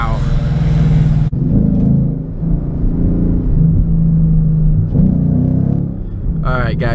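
A tuned Ford Mustang accelerates hard, its engine roaring loud and close as it revs and pulls, with a shift break and speech over the engine noise.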